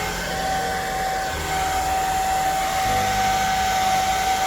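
Hair dryer blowing on wet watercolor paint: a loud, steady close whoosh of air with a constant motor whine, continuous throughout with no talk.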